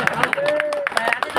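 A crowd claps in welcome at a wedding ceremony, a run of quick, uneven claps mixed with several voices talking over them.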